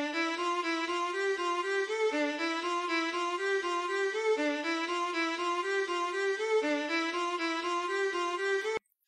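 A synthesized melody generated by Python nested for loops repeats a steady pattern of bright, tonal notes in layered rising phrases, continuous and clear for about nine seconds before stopping abruptly.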